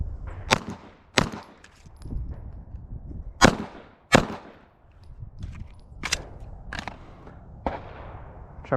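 Gunshots at an outdoor shooting range, about eight sharp cracks spaced irregularly roughly a second apart, each with a short echoing tail, no talking between shots.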